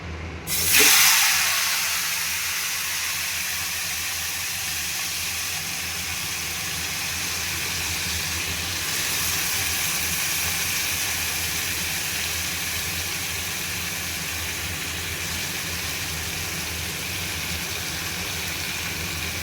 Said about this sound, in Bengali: এবারে আমি তেলের মধ্যে মাংসগুলোকে ছেড়ে দেবো